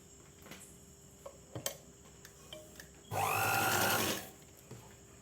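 A tailoring sewing machine runs a short burst of stitching on folded canvas fabric for churidar pants, loud and steady for about a second, framed by light clicks and handling noises.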